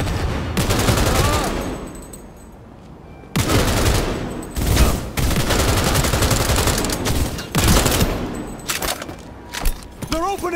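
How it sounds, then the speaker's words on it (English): Dense gunfire in the video game Cyberpunk 2077, loud and close, with sustained automatic bursts and rapid shots broken by brief pauses, with voices talking underneath. "They're opening fire!"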